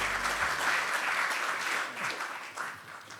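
Steady applause from the audience at a science and technology event held at the National Assembly in Seoul, a dense crowd clapping continuously for about three seconds, fairly loud and unbroken, with no voices over it.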